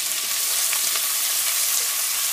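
Bay leaves and whole spices fry in hot oil for paneer biryani, giving a steady, even hiss of sizzling at close range with faint pops scattered through it.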